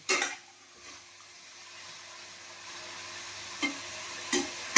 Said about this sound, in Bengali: এগুলোকে ভালো করে ভেজে নেব